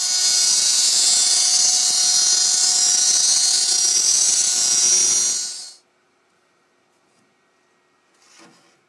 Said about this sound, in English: the X-Carve cut the outer perimeter of the fretboard